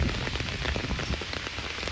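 Rain falling outdoors in cold weather, a steady dense patter across the whole stretch with no speech.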